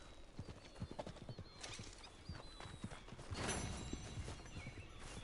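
A horse in Red Dead Redemption 2 gallops with quick, loud hoofbeats, then lets out a strong whinny midway, the hooves continuing around it without any talk.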